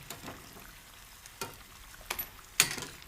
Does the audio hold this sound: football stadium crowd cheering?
no